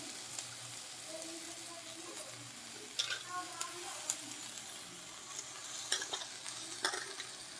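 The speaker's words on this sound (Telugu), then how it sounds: "ఇలాగా బచ్చలు కూడా వేసుకుని కలుపుకుంటే" Yam and malabar spinach curry, a Godavari-style dish, is stirred in a pan with scraping spoon strokes and soft clacks over a low sizzle, close up and alone.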